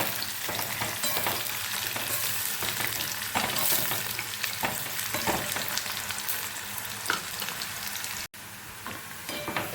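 Onions fry until golden brown for chicken khichdi, a loud, dense, continuous sizzle up close with stirring scrapes running through it and a brief dropout near the end.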